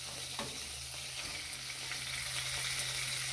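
Veal bones with meat frying in a pan, an even close sizzle with light stirring clicks, continuous and fairly quiet, no talking.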